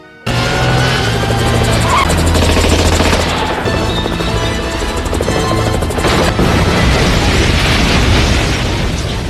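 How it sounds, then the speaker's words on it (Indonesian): A helicopter crashes and explodes in a loud, sustained blast of explosions and crashing debris that erupts suddenly and rumbles on, with bursts of crackling like gunfire throughout, from the film Tomorrow Never Dies (1997). "Helikopter terjatuh dan meledak, lagi-lagi mereka lolos."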